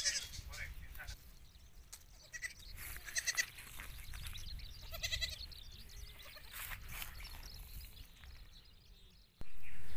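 Young goats bleat repeatedly at close range, short wavering calls scattered over a low farmyard murmur, with a voice speaking now and then in between.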